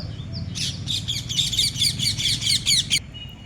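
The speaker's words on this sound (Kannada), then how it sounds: "ಈ ಹೈಸ್ಕೂಲ್ ಫೀಲ್ಡ್ ಫುಲ್ಲು ಬರೀ ಗಿಳಿಗಳೇ ಅವೇಲೆ." A burst of shrill, rapid parrot chirps and squawks from a flock on a high school field repeats steadily for a few seconds over a low background rumble, fairly close.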